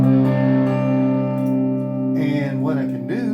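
An electric guitar through a boost circuit, played as sustained chords with a slightly distorted, gainy edge that rings out before fresh notes are picked near the end.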